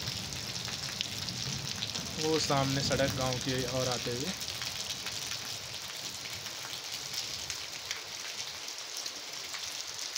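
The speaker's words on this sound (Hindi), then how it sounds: "लगभग एक घंटे से बारिश हो रही है, ऊपर पहाड़ों में काफ़ी ज़्यादा बारिश है" Heavy rain hisses steadily across a mountain village road, a faint, even wash that runs the whole time. Someone speaks briefly over it near the start.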